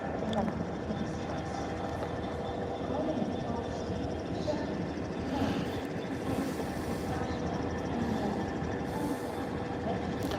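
A Class 66 freight train rumbles past at a level crossing with a steady, continuous roar of wheels and engine, nearby and sustained throughout, with some voices in the background.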